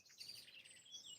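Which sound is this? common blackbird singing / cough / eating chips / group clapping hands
common blackbird singing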